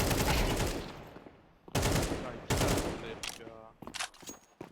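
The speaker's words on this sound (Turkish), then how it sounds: "İki kişi birden vurmuş" Bursts of gunfire in the shooter game CS:GO, several loud spraying volleys one after another with short gaps and a few scattered shots near the end, with no talk over them.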